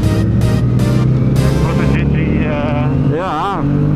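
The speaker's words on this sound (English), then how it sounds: "Ja, dat is mijn jet ski." A jet ski engine holds a loud, steady droning hum close by, its pitch wavering slightly, with voices faintly audible over it.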